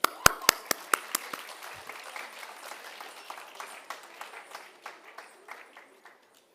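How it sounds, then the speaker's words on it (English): An audience applauds to welcome Kathak dancers at an annual foundation day celebration. A few loud, sharp claps open it, then scattered clapping follows and thins out to silence. "Please welcome them with a round of applause."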